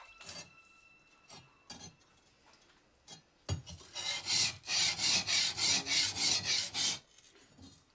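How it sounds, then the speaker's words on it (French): A katana's steel blade gets its first polishing, beginning with scattered scrapes and then a steady run of loud, rhythmic rasping strokes, each back-and-forth pass close and evenly paced. "Un premier polissage permet de faire apparaître le hamon, la ligne de trempage de la lame."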